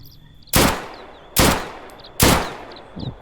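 Gunfire in the online survival shooter Deadside: three loud, close gunshots come about a second apart, each followed by a decaying echo, and a fainter fourth shot follows at the end.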